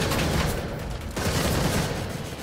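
Enemy gunfire in Gotham Knights, a steady loud rattle of overlapping shots forming a continuous barrage with a brief dip midway.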